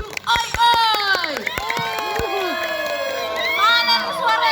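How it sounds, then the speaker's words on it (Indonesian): A crowd of young people at a scout camp in Jantho, Aceh, cheers loudly, with excited shouts and whoops, some long and rising. A few sharp claps come through near the start. "beri tepuk tangan yang meriah buat Kodim Oi Oi."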